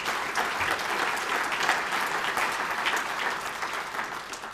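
Steady audience applause at a county government state-of-the-city business gathering, a dense even wash of many hands clapping close by and sustained throughout with no talk.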